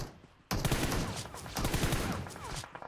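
Sudden loud burst of automatic gunfire from a PUBG Mobile match, rapid overlapping shots in a sustained fusillade after a brief quiet start, with faint voices beneath.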